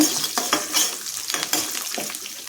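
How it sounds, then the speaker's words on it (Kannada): Sambar onions and garlic sautéing in oil in a pan for beetroot chutney, a steady close sizzle with repeated soft scraping strokes of a spatula, no speech. "ಈ ಹಂತದಲ್ಲಿ ನಾವು ಸಾಂಬಾರು ಈರುಳ್ಳಿನ ಸೇರಿಸೋಣ ಜೊತೆಗೆ ಬೆಳ್ಳುಳ್ಳಿನ ಸಹ ಸೇರಿಸಿ ಇದನ್ನು ಸ್ವಲ್ಪ ಹುರ್ಕೊಳ್ಳೋಣ"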